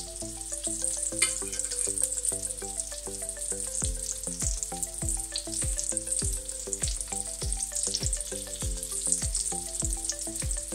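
Meatballs frying in hot oil give a steady, close crackling sizzle that runs unbroken throughout, with music playing underneath.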